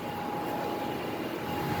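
Steady broadband whir of a 2009 2-ton Fujitsu ductless heat pump running in cool mode at a small restaurant, a loud constant fan-and-compressor drone with a faint tonal hum and no breaks.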